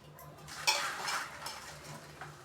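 Utensils clatter and scrape against a pot or bowl while sun-dried curd chillies are mixed at home, a steady run of stirring clinks with a couple of sharper knocks, close and fairly quiet, no voices.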